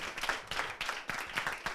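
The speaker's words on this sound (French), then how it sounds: "Sur vos acclamations." An audience gives a guest a welcoming round of applause at a youth challenge event: dense, steady clapping in close, overlapping waves for a couple of seconds, with no voices over it.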